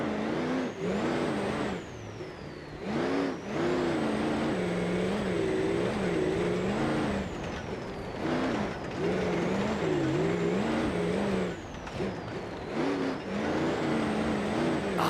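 A turbocharged super car engine in BeamNG.Drive revs up and down repeatedly, its rising and falling engine tone topped by a high turbo whine, loud and close throughout.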